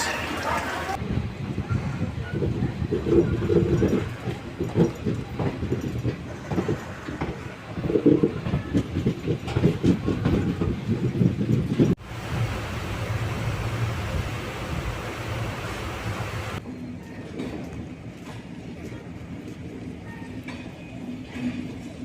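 The Kanniyakumari-Pondicherry Express rumbles along the rails with a continuous low roar and rattle heard from inside the train, the sound shifting in tone partway through and easing to a quieter hum near the end.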